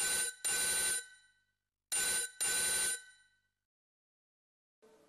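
An electronic telephone ringing, two short double bursts of a bright trilling bell with pauses between them, loud and close, followed by a faint trace at the end, no talk.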